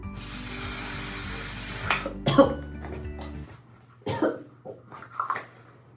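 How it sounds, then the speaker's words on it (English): Makeup setting spray hisses from a pump bottle in a sustained spray of about two seconds, followed by clattering handling noises and a cough. "this setting spray is the absolute best"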